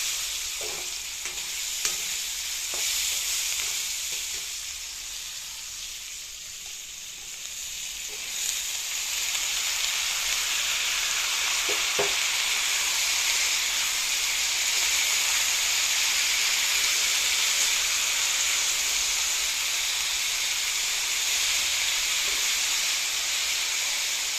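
Cabbage fries in oil with asafoetida and turmeric, a dense, continuous hissing sizzle that swells noticeably louder partway through, with a few faint stirring knocks.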